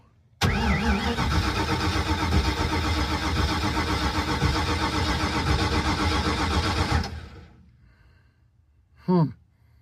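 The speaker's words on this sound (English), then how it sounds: "Let's just take you through a real-time startup of White Trash." A car fitted with an Edelbrock 1405 carburetor cranks and catches, then its engine runs loud and steady up close for several seconds before cutting off, followed by a brief faint sound near the end.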